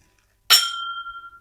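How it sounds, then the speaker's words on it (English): Glasses clink together in a toast at a bourbon tasting: one sharp, bright strike followed by a clear, ringing tone that fades slowly over about a second, close by in an otherwise quiet room. "let's clink"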